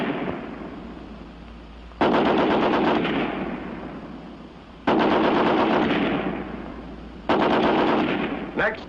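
An American Light .30 machine gun fires from a bipod in three loud sustained bursts, each a rapid roaring stream of shots that rings off and decays before the next burst starts.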